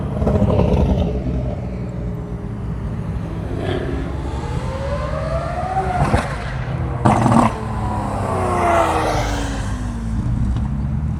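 A loud sports car engine revs at a cars and coffee meet, with sustained throaty roar and rising, sweeping pitch changes over about eleven seconds, plus a couple of sharp bursts midway.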